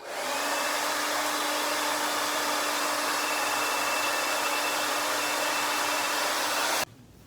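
A handheld hair dryer blows steadily at close range for about seven seconds, a loud, even whoosh with a faint whine, cutting off abruptly near the end; no one speaks.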